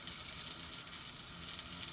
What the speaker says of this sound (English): and it starts to sizzle.